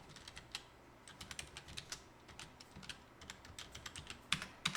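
Fingers type an email address on a computer keyboard: a quick, uneven run of light key clicks, close and fairly soft, with a few louder taps near the end and no speech.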